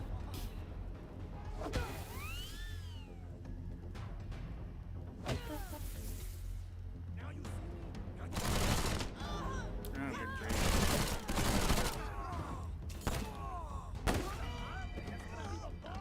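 Gunfire during turn-based combat in Wasteland 3, with bursts of shots and whooshing weapon effects spread across the stretch, some louder volleys in the middle, with no voices.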